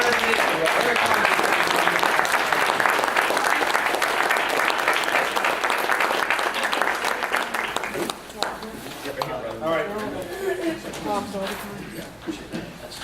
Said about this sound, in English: Let's just show him a Pittsburgh welcome if we could. Put your hands together.